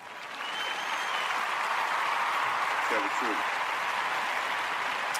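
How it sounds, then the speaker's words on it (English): Steady dense clapping that sounds more like a crowd than a single pair of hands, continuous and moderately loud for several seconds with a brief low murmur partway through. "I give you that big, long clap here"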